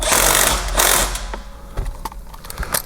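Power tool tightening small 8mm bolts on a Ford Bronco overhead Molle rack: a loud whirring burst at the start, then a few short clicks and rattles of the tool and hardware.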